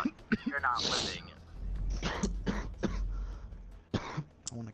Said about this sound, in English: I want to cough loud.